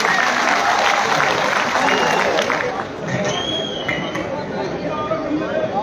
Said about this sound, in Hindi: जोरदार तालियों से शगुन जी का स्वागत किया जाए